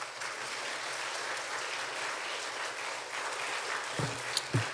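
A church congregation at a Sunday service claps steadily to welcome an elder coming up to preach, a broad even wash of applause filling the room, with a couple of brief voices near the end.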